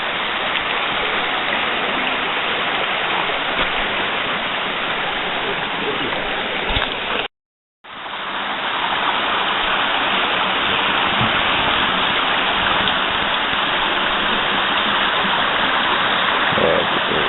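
A creek rushes through Parfrey's Glen, a narrow wooded gully: a loud, steady broadband roar of flowing water close by, cut off by a brief drop-out and then continuing unchanged.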